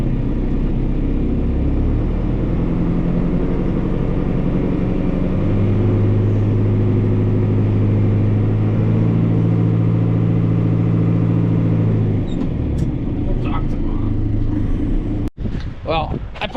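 A Mack semi truck's engine runs with a low, steady rumble that swells into a deeper drone midway and then fades near the end. A person talks over it.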